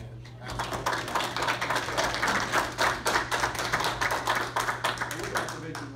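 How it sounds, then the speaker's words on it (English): A round of applause breaks out at a county board of education meeting, a steady patter of many hands clapping at moderate distance in a room with a constant low hum. "I think we need to give a round of applause."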